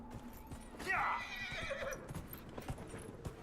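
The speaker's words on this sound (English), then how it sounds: "our horse isn't that fast, but it's slightly faster than what we're doing now" A horse in the video game Dragon Age: Inquisition gives a clear whinny, followed by quick clip-clop hoofbeats as it sets off galloping.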